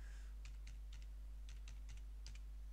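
Keys clacking on a computer keyboard in short bursts of a few strokes each, fairly faint against a steady low electrical hum, with no voices.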